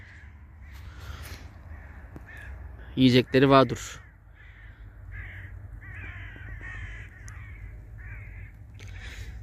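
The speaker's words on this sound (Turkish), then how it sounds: "Karga sesleri var şurada." Crows caw outdoors in a snowy Zonguldak town: a quick loud burst of several harsh caws partway through, with a person talking quietly before and after.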